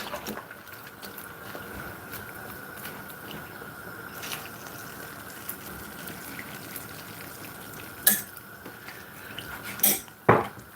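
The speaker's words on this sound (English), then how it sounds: "We're gonna tip some water in this." Water tipped from a container into a cooking pot of Jamaican red peas and smoked meat soup with carrot and chicken, a steady close pour followed by a few brief clanks of the pot near the end.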